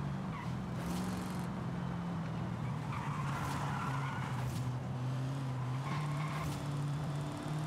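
A Nissan S14 240SX with a supercharged iron-block LS engine drifts in Forza Horizon 5. A steady engine drone runs under repeated tire squeals and skids that rise and fade in several bursts. Nobody speaks.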